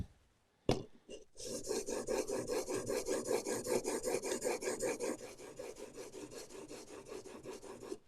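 A blade stroked back and forth across a wet 1000 grit sharpening stone, giving a steady, rhythmic rasping scrape that is close and clear, preceded by a brief knock, with no talking.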